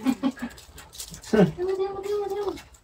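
A female dog whimpers and whines in a drawn-out, rising cry after a few short yips, close by, with people's voices present in the background.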